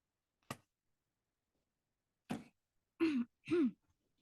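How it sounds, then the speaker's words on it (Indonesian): A short sharp sound of drinking, then after a pause a throat clearing and two voiced coughing grunts in quick succession, close and fairly quiet. "saya minum dulu nih, saya memang agak batuk"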